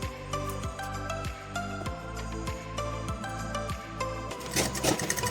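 Sewing machine stitching along the edge of a pillow cover, a steady fast mechanical chatter with regular needle thumps about every second, close and continuous with no voices.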